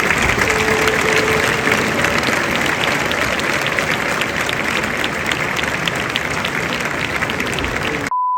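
Sustained loud applause from a large audience fills the United Nations General Assembly hall for Brazilian president Lula, steady clapping throughout before cutting off abruptly.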